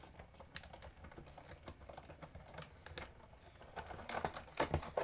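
A Stampin' Up Big Shot embossing machine is cranked by hand, producing soft, close clicking and ticking of the mechanism in an uneven rhythm, with faint high chirps early on and a slight clunk near the end.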